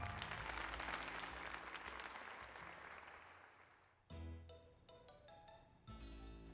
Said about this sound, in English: let's give another heartfelt round of applause for Ace.